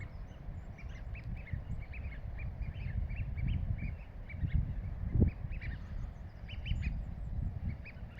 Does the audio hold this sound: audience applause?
no